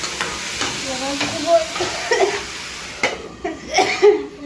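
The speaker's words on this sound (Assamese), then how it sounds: "ভাজিটো বহাই দিছোঁ ভাজিটো দি থাকক" Potato fry sizzling and frying in a pan, with occasional scraping stirs and light clatter, a soft voice murmuring briefly in the background.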